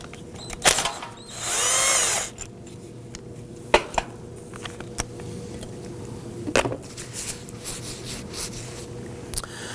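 A power tool whirs for about a second on a 10mm bracket bolt of a 2005-2009 Subaru Legacy 2.5L H4 during power steering pump removal, followed by scattered metallic clicks and clanks.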